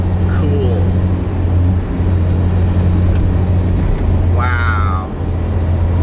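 A car cruises along a smooth stretch of Highway 101 with a steady engine and road drone. A voice speaks briefly over the constant hum.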